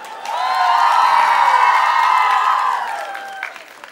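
An audience at a Tatar-language event applauds and cheers for a birthday greeting, a loud, sustained crowd swell with whoops that builds quickly, holds for about two seconds, then fades.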